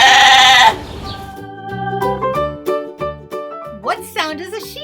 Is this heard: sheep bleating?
yes